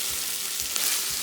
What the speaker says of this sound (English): So we're going to now fry this until it is well done